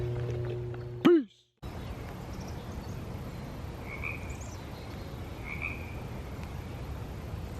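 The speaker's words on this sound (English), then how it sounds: "Frogs are loving it." Frogs call outdoors in wet weather, two faint croaks sounding some distance away over steady background hiss after a brief, sharp, sweeping sound.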